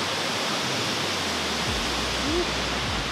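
Multnomah Falls in Oregon roars as a steady, dense broadband rush of falling water, constant and close throughout, with faint low rumbles underneath and no voices.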